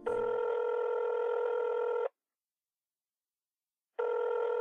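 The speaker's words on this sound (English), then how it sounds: "Come on, answer the fucking phone." A telephone ringback tone while a call waits to be answered: one long steady ring, a two-second silence, then the ring starting again, loud and clear with no one talking.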